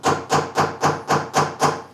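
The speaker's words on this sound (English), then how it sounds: "I'll go ahead and hammer it just a little bit more." A hammer taps a cone set screw into a block of wood in seven close, evenly spaced strikes, each a crisp, fairly loud knock.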